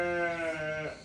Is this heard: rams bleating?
yes